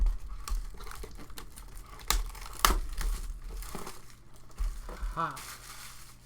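Plastic wrapping crinkles and tears as it is pulled off a Magic: The Gathering card box, with a scatter of sharp crackles and rips, close and fairly loud, and a short voiced exclamation near the end.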